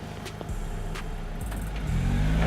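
A BAIC BJ40 mid-size SUV pulls away on a test course with its right front wheel lifted, the engine note building steadily as it accelerates, a few knocks and clunks from the chassis along the way.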